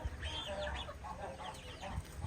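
A Brahma rooster clucks and calls close by in short, rising and falling vocal bursts over steady outdoor background noise.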